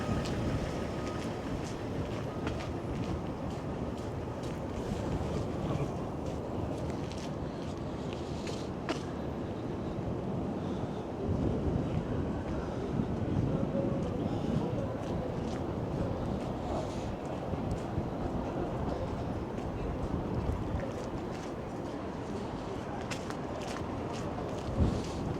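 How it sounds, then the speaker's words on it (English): Strong wind buffets the microphone on a street in Toronto's financial district, a continuous loud rumbling roar that swells slightly midway through and never lets up. "This wind is brutal right now."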